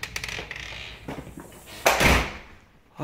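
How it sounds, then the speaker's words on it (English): The newer front door of a house opens, with a short rattle of the handle and latch, a sliding whoosh as the door swings, and another soft knock at the end, all close by. "It's a newer front door."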